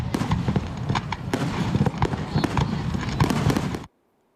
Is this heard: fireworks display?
yes